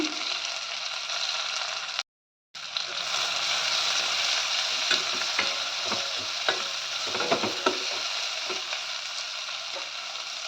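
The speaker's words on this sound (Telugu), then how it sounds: "ఆనియన్స్ ఫ్రై అవ్వటానికి కొంచెం సాల్ట్ వేసుకుంటున్నాను" Onions with green chilies and salt fry in a pan with a loud, continuous sizzle, broken once by a brief dropout, with occasional spoon scrapes and stirring knocks near the end.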